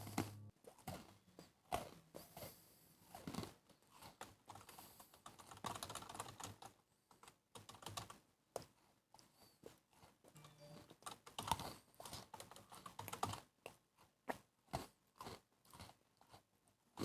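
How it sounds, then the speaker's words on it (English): Computer keyboard typing during a gaming session: bursts of rapid clicky keystrokes, close and fairly quiet, continuing in irregular clusters throughout with short pauses. "anybody can hear my clickety clackety of my keyboard"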